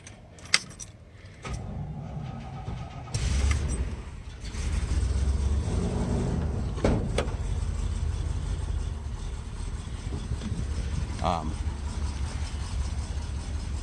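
A 1986 Chevy K30 dually 4x4 squarebody pickup: keys jingle, the starter cranks briefly, and the engine catches and settles into a steady, even idle for the rest of the clip.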